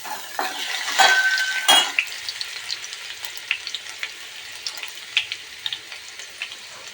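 Garlic sizzles in hot oil as the tempering for a Maharashtrian fish curry: a dense bed of crackle and spitting with scattered sharp pops, and a couple of louder bursts near the start as it is stirred. No one speaks.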